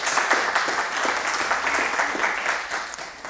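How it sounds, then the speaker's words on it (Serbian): An audience at a school debate competition claps for a gymnasium team, a dense, steady round of applause that continues throughout without any voices on top. "aplauz za afirmaciju"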